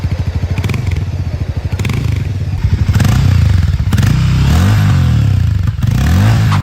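Hero Mavrick 440 motorcycle engine and exhaust thumping close and loud, a rapid pulsing beat at idle that breaks into revving bursts, with a few clunks and rattles along the way.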